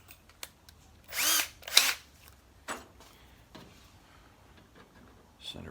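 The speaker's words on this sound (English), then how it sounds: "Go ahead and get our pilot drill out." A power drill boring a pilot hole during a Jeep CJ hood latch install, with two short, loud whirring bursts close together, surrounded by scattered clicks and handling knocks.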